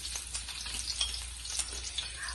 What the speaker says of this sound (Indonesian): Langsung aja kita tumis bawang merah, bawang putih kita masukin ya guys.